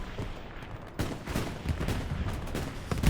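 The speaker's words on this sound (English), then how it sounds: "MG is heavily peppering the area" Machine gun fire in the World War II shooter Hell Let Loose on Utah Beach, with rapid bursts of shots peppering the area amid battle noise, fairly loud and continuous.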